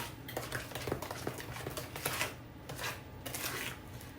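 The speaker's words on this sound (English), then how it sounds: "We're just going to stir it in. Make sure it gets stirred up good." Blueberry muffin batter being stirred in a bowl, with soft repeated scraping and clinking of a spoon against the bowl at a steady close rhythm, alone without talk.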